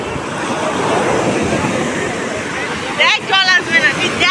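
Sea waves wash onto a beach at Puri in a continuous rushing surf with wind noise, loud and close, while voices chatter excitedly near the end.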